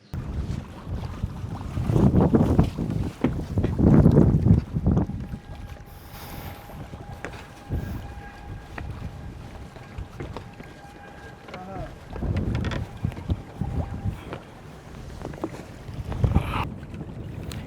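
Wind gusts buffet the microphone in loud bursts at a river jetty on Maheshkhali island where boats are moored, easing between gusts to a softer background rush.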